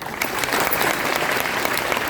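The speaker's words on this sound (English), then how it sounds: "Big round of applause for you." An audience at an award ceremony for 10th and 12th standard students breaks into sustained, dense applause, loud and even throughout.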